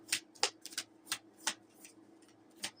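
Quiet, sharp riffling clicks of cards being shuffled in short irregular bursts, close up, with no talking.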